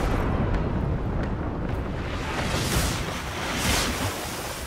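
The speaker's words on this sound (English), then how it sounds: "now we're going to fire the port cannons" Ship's port-side cannons fire during naval combat in Pillars of Eternity II: Deadfire, a loud, continuous broadband boom and rumble that rolls on with surging, wave-like noise and no voices.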